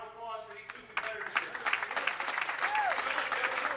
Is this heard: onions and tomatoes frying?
no